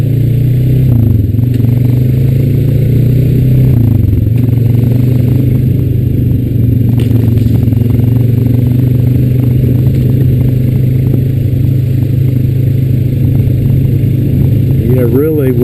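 A Honda Rancher 420AT ATV runs in second gear in ESP mode, its engine a steady loud drone with shifting low harmonics, small dips and clattery mechanical noise throughout, with a brief rise near the end.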